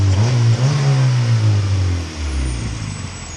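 A B20 turbo engine revs hard and loud up close, its pitch rising and holding before easing off slightly toward the end, with no talking.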